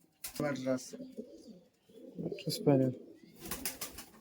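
Giribaz pigeons coo in a loft, with low, rolling calls rising and falling in several bursts alongside a person talking.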